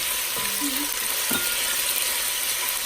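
Pork and pineapple fried rice sizzles steadily in a hot pan while being stirred, a continuous close hiss of frying with a few soft scraping stirs and no talk.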